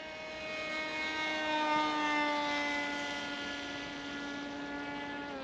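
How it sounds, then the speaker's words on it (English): A cheap, ugly RC plane with an oversized propeller flies past, its loud, steady buzzing drone carrying rising and falling harmonic tones as it swells slightly louder and then eases off. "it is just loud with the massive propeller it's got on it"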